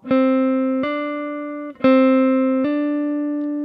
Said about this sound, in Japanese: 人差し指で押さえて、で、薬指で7フレットを叩く。 ハンマリングオンで、えー、音を出すという動作をやってみますが。